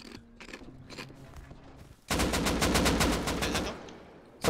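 Automatic gunfire in the survival video game Rust: after a few quieter scattered sounds, a loud, sustained burst of rapid shots erupts midway and rattles on to the end.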